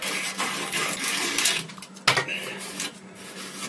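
Sandpaper rubs back and forth by hand over a plastic dishwasher waste pipe, making close, rapid scratchy strokes with a sharper scrape near the middle.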